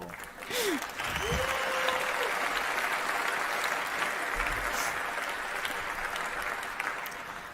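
An audience at a conference presentation bursts into sustained applause, dense and fairly loud clapping that holds steady for several seconds, with a few brief tones and murmurs over it.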